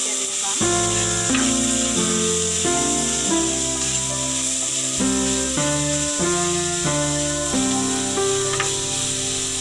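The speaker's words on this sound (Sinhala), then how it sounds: "සුදුරුණු බැදෙනකොට ගොඩක් සුවඳ හමනවා." Garlic frying in a pan for a Sri Lankan breadfruit curry, a steady hissing sizzle running continuously beneath louder background music.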